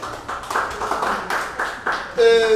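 Audience clapping for performers at a mini live concert, a ragged burst of handclaps in quick uneven bursts under a voice talking, ending as the talk takes over.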